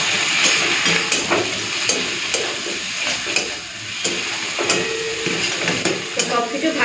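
Prawns fry in hot oil with onions in a pan, a continuous loud sizzle broken by repeated scraping and stirring strokes of a spatula against the metal.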